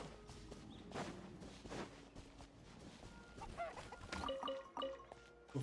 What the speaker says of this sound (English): So funny that they make chicken sounds.